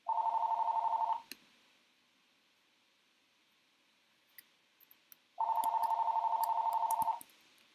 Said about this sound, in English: Ooh, that's my phone.